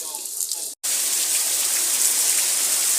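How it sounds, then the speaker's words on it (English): Steady, heavy rain pours outdoors at night as a continuous hiss of falling water, broken only by a momentary dropout near the start. "it's completely raining right now, as you can see"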